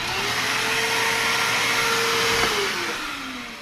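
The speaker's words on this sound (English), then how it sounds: "And let me go ahead and turn on the vac." A shop vacuum serving as a workshop dust collector roars steadily and loudly, its motor whine holding pitch before winding down slightly near the end, with nothing else heard.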